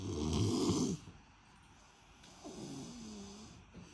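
A 4-year-old child snores loudly in his sleep with his mouth open. One heavy, rasping snore comes first, then quieter, strained breathing follows in a still room.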